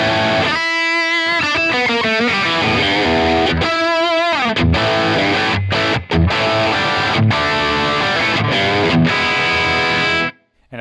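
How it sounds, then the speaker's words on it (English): A Strymon Iridium amp modeler with the drive turned fully up gives a loud, saturated high-gain distorted guitar that plays sustained chords and chugging riffs with short stops, then cuts to silence at the end. "If we turn the drive all the way up, we'll get to those hot rodded high gain tones."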